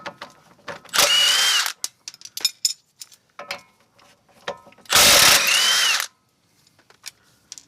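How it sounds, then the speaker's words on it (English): Two loud, sharp bursts of an impact wrench removing front suspension nuts on an Infiniti G35, each about a second long, separated by clanks and rattles of tools and loose metal parts. "Use an impact or a breaker bar to get these guys off."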